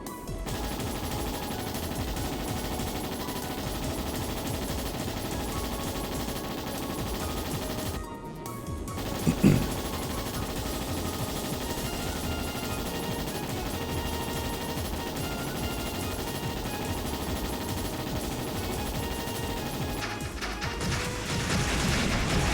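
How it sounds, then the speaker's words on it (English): An airship-mounted gun in Trails in the Sky SC fires a continuous rattling barrage over a steady game background, with one sharper crack partway through. "Oh no, I think I see a little gun on the top there."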